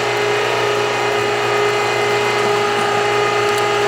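A meat grinder fitted with a 4.5 mm die grinds pork, giving a loud, steady mechanical whir and grinding drone that runs unbroken throughout, with no talking.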